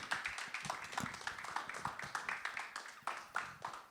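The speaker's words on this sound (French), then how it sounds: "Je vous demande de l'applaudir, s'il vous plaît, plus fort." Scattered audience clapping at a French-language singing audition, quiet and somewhat distant, with uneven claps rising and falling over a few seconds.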